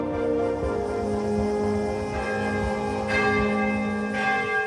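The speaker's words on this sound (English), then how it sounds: "heard the two bells ring together for the first time since 1945" The two bells of Nagasaki's Immaculate Conception Cathedral ring together, resonant tolls with long humming decay and fresh strikes landing every second or so, layered and sustained.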